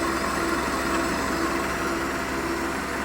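A car engine idles steadily at low revs, a continuous close hum with a faint even vibration and no voices, from a vehicle with a fault that makes its idle RPM rise and fall.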